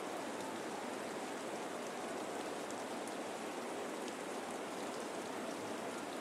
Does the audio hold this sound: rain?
yes